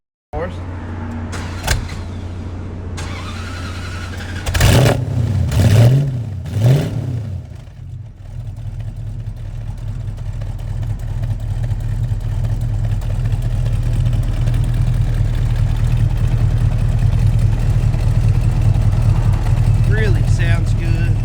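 A 1970 Dodge Challenger R/T engine starts after a few clicks and thumps, then settles into a steady, deep, loud idle with a rising low rumble that holds to the end.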